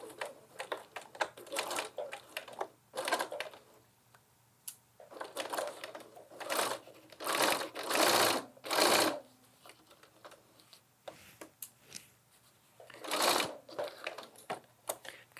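A sewing machine stitches the corners of a lined tote bag in several bursts of fast, steady needle clatter, separated by short pauses, with moderate loudness close by.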